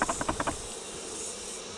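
Honey bees buzz around an opened hive as the last bees are shaken in, a faint, steady drone with a few soft bumps at the start and no speech.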